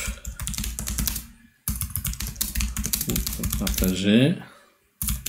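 A LinkedIn message is typed on a computer keyboard in quick, irregular bursts of key clicks, with someone talking over the typing.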